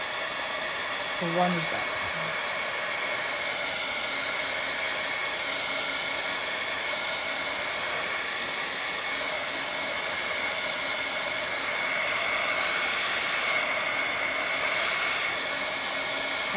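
A heat tool blows hot air over a painted journal page in a steady, loud, continuous whoosh for the whole stretch, with a brief spoken phrase near the start.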